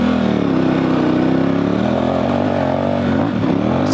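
An adventure motorcycle on Heidenau K60 Scout tires pulls away in loose dirt and sand, its engine climbing steadily as it accelerates, loud and close throughout with a continuous, rising drone.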